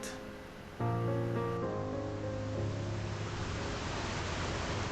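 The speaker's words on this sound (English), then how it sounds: "Parts of the river walkway have started to flood" Floodwater from a swollen river in Sheffield rushes past in a steady, broad roar, loud and close, constant throughout with no voices.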